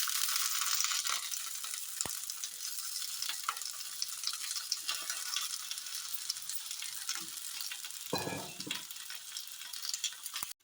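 Steady sizzling of eggplant frying in coconut oil in a pan, with occasional scraping and stirring clatter. No one speaks.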